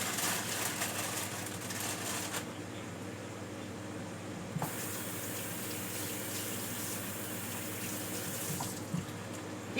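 A kitchen tap runs in a steady, moderately quiet stream while fresh asparagus spears are rinsed under it, with slight splashing variations and no talking.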